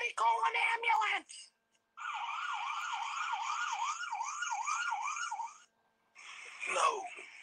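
An ambulance siren wails in rising and falling sweeps, loud and close, broken by short gaps, with raised voices shouting over it at the start and end.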